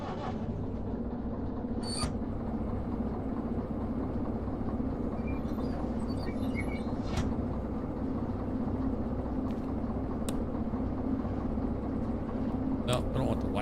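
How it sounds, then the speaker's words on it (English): Continuous low rumble of a train running in a train-driving game, steady and close with occasional brief clicks and knocks, while someone talks over it. "All right, we're on the train."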